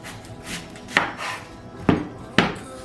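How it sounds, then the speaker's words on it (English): A kitchen knife slices through a large white onion for French onion soup, giving three sharp, close cuts against a board with soft scraping between them. "We're gonna julienne or slice it"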